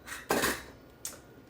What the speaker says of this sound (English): let me get my other measuring cup out here